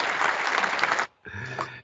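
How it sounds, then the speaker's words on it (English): Applause from an audience after a presentation in an education session, dense clapping for about a second, a brief pause, then a shorter second burst with a low hum beneath. "Let's give her a round of applause"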